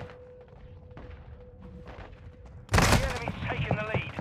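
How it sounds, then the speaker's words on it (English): Video game combat with a burst of explosions and rapid gunfire, which erupts loudly after a quieter stretch with a steady tone and continues with metallic rattles and ringing. "Oh my god, how many explosives am I gonna dodge every second?"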